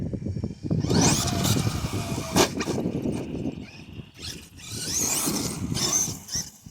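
A Traxxas E-Revo 2.0 RC car's small electric motor whines and revs up and down in uneven bursts, with scuffing and rattling between the revs.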